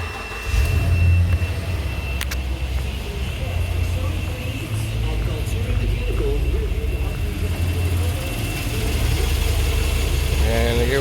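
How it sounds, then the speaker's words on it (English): A truck engine runs at a steady idle during a head gasket combustion leak test, a continuous low rumble that lasts throughout, with someone talking over it. "So I'm gonna go ahead and start the truck and put this on it."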